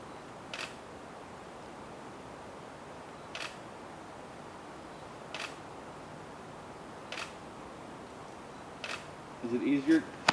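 A camera shutter clicks during a portrait photo shoot, five sharp isolated snaps spaced a couple of seconds apart over steady room noise, with brief soft voice sounds near the end.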